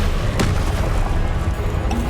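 A Confringo spell from the Hogwarts Legacy video game explodes in a boss fight, giving a loud, dense booming blast with a sharp burst near the start and rumbling low-end energy throughout.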